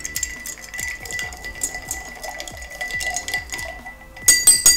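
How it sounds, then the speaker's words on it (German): Ice cubes are stirred in a cocktail mixing glass for a gin martini, giving a quick run of bright, close clinks and rattles that grow louder near the end, with no talk. "Anschließend wird das Ganze schön verrührt."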